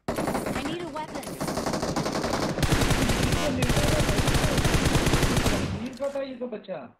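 Video game gunfight with rapid automatic gunfire in dense sustained bursts, loud and close, tapering into scattered shots at the end.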